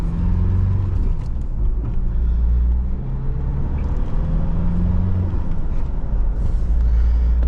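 A 1985 Ford Thunderbird Turbo Coupe with a 2.3-liter turbocharged four-cylinder and manual gearbox drives along, its steady engine drone and road rumble loud and continuous throughout with no talking.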